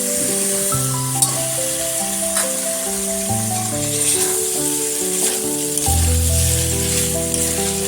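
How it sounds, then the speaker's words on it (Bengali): Pointed gourd, soybean chunks and potato with spices fry loudly and steadily in a pan, a continuous close sizzle and hiss beneath constant background music. "আলু আর মশলার সাথে ভালো করে কষিয়ে নেব।"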